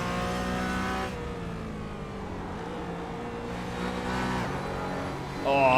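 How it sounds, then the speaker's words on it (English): A GT4 race car engine in a sim racing game at the Nürburgring holds a high, buzzing rev, dips briefly, then climbs again at the end, with commentary faintly underneath. "He has to get out of it there because he's just a little bit too high up the revs into the final corner"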